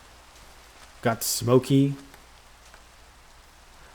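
Rain falls outdoors in the Minecraft video game, a soft, steady patter under a short stretch of nearby talking.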